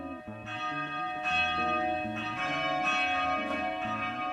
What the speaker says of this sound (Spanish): La campana del monasterio le devolvió al tiempo real